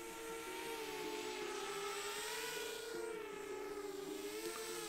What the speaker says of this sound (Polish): to jeszcze jest ten dźwięk drona